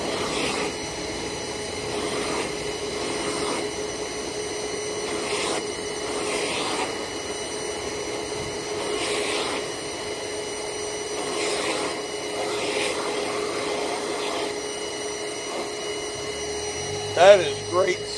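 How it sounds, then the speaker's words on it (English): A vacuum cleaner suctions a mat with a steady, close, continuous motor roar and faint repeated strokes of the nozzle, a brief louder bump near the end. "That is great suction."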